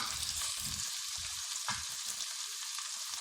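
Finely chopped tomatoes fry in a pan for aloo palak saag, a steady close hiss of sizzling with soft stirring scrapes mixed in, and no talking.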